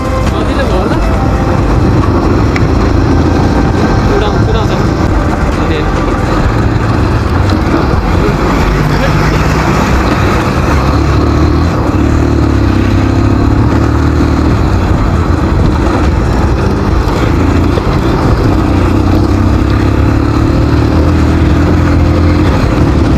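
A motorcycle engine drones loud and constant while riding a rough off-road trail, with heavy wind rumble over the whole stretch.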